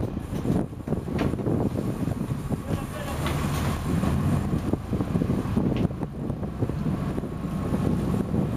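Wind gusts across a marlin fishing boat at sea, a continuous blustery roar with rumbling buffets against the microphone, loud and close, mixed with faint indistinct voices.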